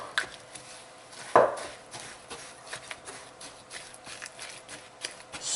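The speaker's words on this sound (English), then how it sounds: "I'm going to mix all these up" Date nut rum bar ingredients mixed by hand in a bowl, with soft irregular thumps and scraping, one sharper knock early on, all close and fairly quiet.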